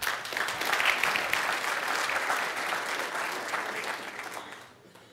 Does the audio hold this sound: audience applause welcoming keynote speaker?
yes